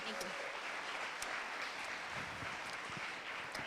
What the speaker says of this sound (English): Another round of applause for Andrea.